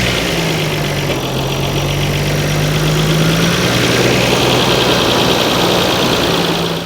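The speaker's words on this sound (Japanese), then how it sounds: "じゃあちょっとエンジンかけてみましょう。" A Nissan Skyline GT-R's twin-turbo RB26DETT inline-six idles steadily, close and loud, with a smooth continuous hum and no talking over it.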